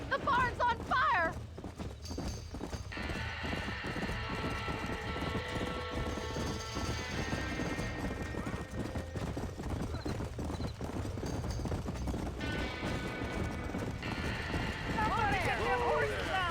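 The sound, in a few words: horses in burning barn in video game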